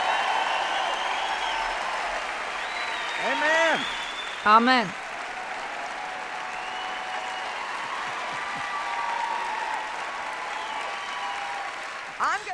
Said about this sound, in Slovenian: Dajmo mu vsi skupaj en velik aplavz.